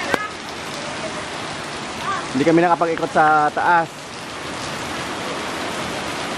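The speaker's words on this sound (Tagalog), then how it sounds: "Ayun o, lakas ng ulan." Steady heavy rain hisses throughout, with a short stretch of nearby talking in the middle.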